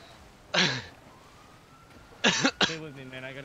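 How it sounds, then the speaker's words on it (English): A man coughs in FiveM, with one harsh cough and then a quick pair of coughs, close by, while a siren wails faintly in the background. "Here, check this guy out. He's coughing."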